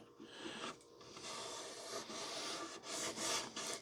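A small burr being filed off wooden beehive ware, a few close, quiet rasping strokes that come in short uneven bursts.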